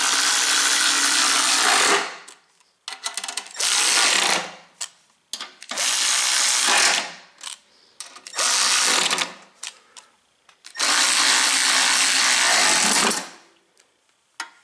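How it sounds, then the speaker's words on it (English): A ratchet tightens bolts on the gas tank of an Ariens snow blower, heard as about five close, loud bursts of rapid mechanical whirring separated by short pauses. "Gonna finish them up with the ratchet."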